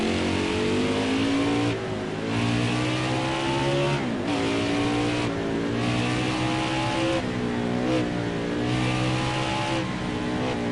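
NASCAR Xfinity race cars at the Brickyard road course brake hard into a tight zone, their loud, close engines roaring and dropping in pitch through repeated downshifts.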